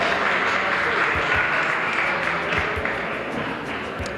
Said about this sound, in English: don't be afraid to clap.